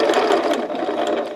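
A sewing machine stitching a paper pieced log cabin quilt block, a brief, close, steady mechanical whir with a fast rhythmic chatter throughout and no talking.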